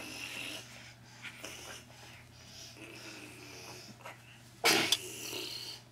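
A single sharp sneeze from a baby bursts out near the end of a quiet indoor stretch, loud and close against faint background murmur.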